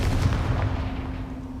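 A Confringo fire spell blast in the Hogwarts Legacy video game, a loud booming burst that rumbles and trails off over about a second and a half.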